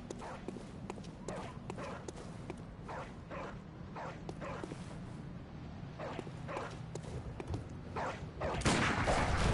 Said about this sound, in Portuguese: Viu porque eu odeio os cachorrinhos?